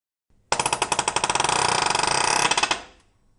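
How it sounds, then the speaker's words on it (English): A Bostitch PN50 air palm nailer drives a nail with a fast, rattling burst of rapid pneumatic hammer blows, close and loud. The run lasts about two and a half seconds and then stops abruptly into silence. "that's the PN50 palm nailer, an interesting little tool"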